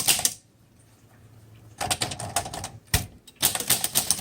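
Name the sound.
1936 Corona Silent Flat Top typewriter typing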